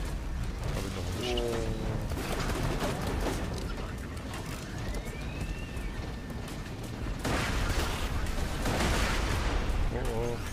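Dense gunfire and explosions from co-op play in Borderlands 2 crackle almost without pause, mixed with game effects and music, while players talk over the action.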